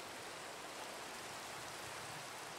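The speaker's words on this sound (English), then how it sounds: "This rain's annoying." Rain falls in a Minecraft All the Mods 8 modpack world as a faint, constant hiss, evenly spread with no pauses and nothing else heard.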